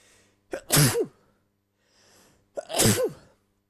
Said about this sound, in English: Now, if I remember to edit out those sneezes, it'll be good.